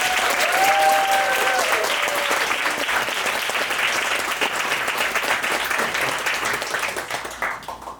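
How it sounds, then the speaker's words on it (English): Sustained audience applause at a McGill HeForShe Men's Story Project event: dense, steady clapping from a crowd that holds strong for several seconds, then thins and fades toward the end. "Can we just give a round of applause?"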